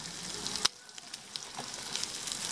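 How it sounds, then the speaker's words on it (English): Steady, close sizzling of eggs and bacon frying in a hot non-stick pan, with a single sharp click early on and no voices. "letting it sizzle in. Letting it cook up."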